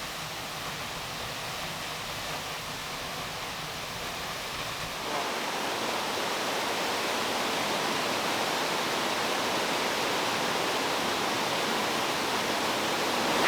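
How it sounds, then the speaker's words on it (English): A waterfall gushes inside a cave near Palenque in Chiapas, Mexico, making a loud, constant roar of rushing water that grows fuller and louder partway through and carries on without pause. "There's a waterfall in this cave."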